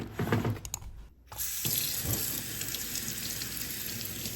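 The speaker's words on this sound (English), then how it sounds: "And then some warm water." Warm water gushes from a tap into a sink being filled with dish soap and disinfectant for washing bulk LEGO pieces, with a brief handling clatter and a short pause before a steady, close, continuous rush.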